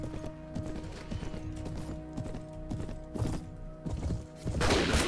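Hooves of a badly wounded horse pound steadily in the 1860s Old America mod video game, mixed with thuds and a harsh noisy burst at the end, with no talking.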